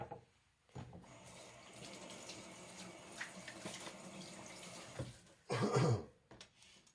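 Tap water runs steadily as a freshly pulled daikon radish, its tail and head cut off, gets a quick rinse, ending in a louder splashing gush near the finish.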